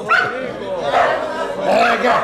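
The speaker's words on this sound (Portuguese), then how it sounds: "Agora a cachorrada invadiu o salão." A pack of dogs barking and yelping inside a hall during a live match, continuous loud overlapping barks mixed with shouting voices and crowd commotion throughout.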